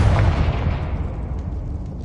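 A Confringo fire spell explodes in a Hogwarts video game: a single loud burst at the start, then a rumbling decay that fades over about two seconds, with no talk.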